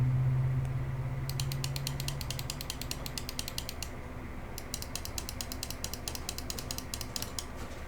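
A Cooler Master MM731 wireless mouse with optical switches and a tactile scroll wheel gives two bursts of rapid, even ticking, close and clear in a quiet room with no talking.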